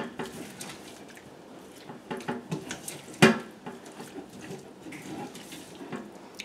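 A spoon scrapes and clinks around a bowl as food for garlic butter steak pasta gets mixed, giving irregular close taps and scrapes with one sharp knock midway. Faint kitchen background sits underneath.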